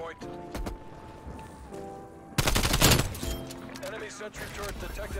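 A rapid burst of AK-74u automatic fire in the shooter game Call of Duty Black Ops Cold War erupts loud and close midway, over steady synthetic game tones and ambience.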